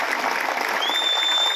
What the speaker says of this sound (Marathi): जोरदार टाळी वाजवून त्यांचं अभिनंदन